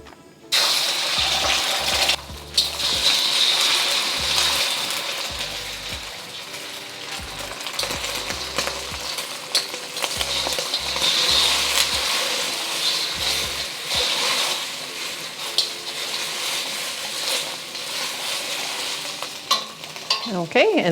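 A tablespoon of oil heating in a hot frying pan for spam and kimchi fried rice, a continuous bright sizzle with occasional clinks and scrapes, close and steady throughout with no speech.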